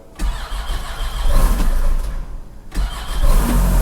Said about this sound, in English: it's not too cold to start the Kawasaki Ridge